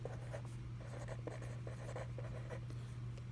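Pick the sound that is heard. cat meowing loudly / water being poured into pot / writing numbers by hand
writing numbers by hand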